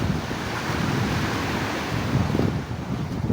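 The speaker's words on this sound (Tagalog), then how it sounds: "Kasi ay yung alon malakas" Strong waves crash continuously at a beach resort, a loud dense roar of surf with heavy wind buffeting the microphone throughout and no voices.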